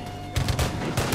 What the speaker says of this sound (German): Ich glaube, ich schieße nochmal auf den Buffalo